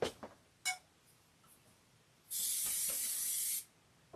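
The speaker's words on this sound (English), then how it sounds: "that was a healthy spray that you heard" Spray bottle misting water onto quilt fabric, one sustained hissing spray of about a second, close and clear, after a few faint handling taps in a quiet room.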